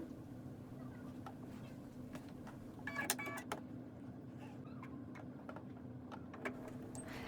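A sewing machine stitches along both sides of a folded ribbon, a steady mechanical hum with light rhythmic ticking and a brief busier clatter partway through.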